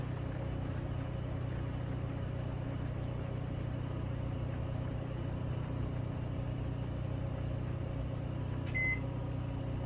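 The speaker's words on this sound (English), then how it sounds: "the microwave just popped on" An RV microwave oven hums steadily throughout, a constant mechanical drone with a brief high beep near the end.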